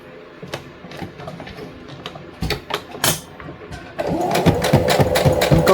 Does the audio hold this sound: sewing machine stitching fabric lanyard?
yes